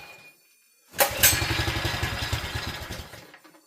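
A Honda GX160 engine on an F1-style go kart, being revived at an abandoned fun park, catches and runs with a loud close staccato putter that stays steady for a few seconds, then briefly dies down.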